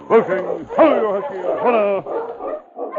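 Sled dogs in a Yukon radio drama bark and yip in quick bursts that trail into whining whimpers, close and loud, several calls overlapping in a busy chorus.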